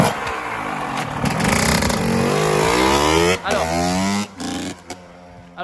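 A Yamaha YZ 125 two-stroke motorcycle revs hard and steadily at close range, its engine pitch rising and falling through repeated throttle blips before cutting off briefly near the end.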